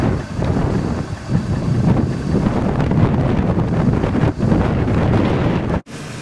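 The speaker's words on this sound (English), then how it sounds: "I'm standing right now in the blizzard. About 40 miles per hour wind." Blizzard wind of about 40 miles per hour roars on Nantucket, a loud, continuous buffeting gust against the microphone with surging swells that briefly cut out near the end, no voices present.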